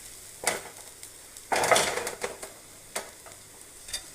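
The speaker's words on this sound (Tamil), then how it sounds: "பாருங்கள், எண்ணெயில் நல்லா வதக்கியாச்சு. நம்ம காயை போட்டு வதக்கிக்கலாம்." Green beans and flat beans are stirred in hot oil in a pan for a lentil usili dish, with soft sizzling and scattered scraping clinks of a spoon against the pan, and no talking.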